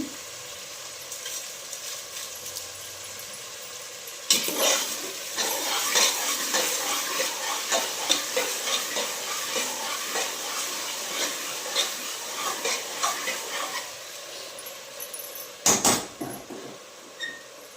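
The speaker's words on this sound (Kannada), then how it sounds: "ಸ್ವಲ್ಪ ಇದು ಫ್ರೈ ಆಗಿ" Tomato bath frying in a pan, with a steady close sizzle that swells loudly partway through, under repeated scraping and clattering from the spatula as it is stirred. No one speaks.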